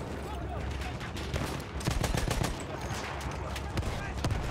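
Rapid bursts of gunfire from a weapon in the Battlefield 1 World War I shooter game, quick repeated shots and machine-gun-like volleys under dense battle noise, with a voice talking over it.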